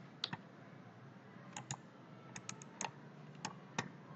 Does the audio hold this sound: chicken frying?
no